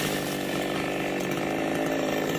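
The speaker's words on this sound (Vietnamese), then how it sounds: "Rồi anh Sang anh đang cưa cây sung trái rất là nhiều luôn." A saw cutting down a heavily fruiting fig tree, its loud continuous buzzing drone filling the whole recording up close without a break.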